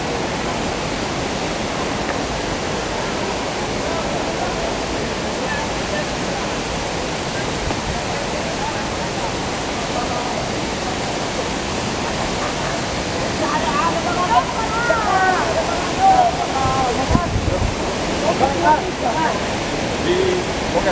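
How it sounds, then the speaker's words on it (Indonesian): Waterfall at Telaga 2 Warna in Sibolangit, North Sumatra: a steady broadband rush of falling water fills the whole stretch, growing slightly louder and choppier toward the end. "Di lokasi ini ada dua air terjun"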